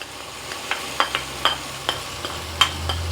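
Ginger and garlic frying in a pan for biryani, cooked on a gas cooker in Jaffna, giving a faint steady sizzle broken by repeated soft scraping clicks as the mixture is stirred.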